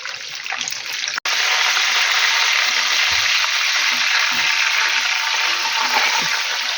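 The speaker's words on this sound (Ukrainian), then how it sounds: "хай так смажиться." Loud, continuous sizzling of chebureki dough pastries frying in hot oil, with a brief break early on, then a steady crackling hiss.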